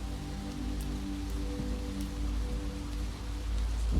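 Steady rain pattering on surfaces at night in New York City, an even, continuous hiss with faint drops.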